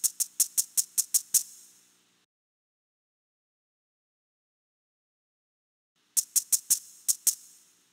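Maracas from the Lamb Chop Loves Music PC game shake in a quick, bright run of about seven sharp rattles, then silence, then a second similar burst of rattles, with no voices.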